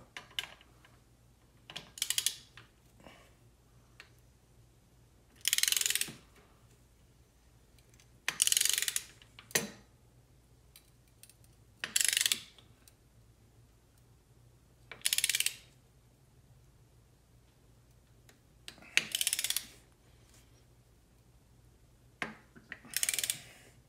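Torque wrench ratcheting in short separate bursts while tightening a 24 mm cam bolt, each burst a quick run of clicks with quiet gaps between, close and fairly soft.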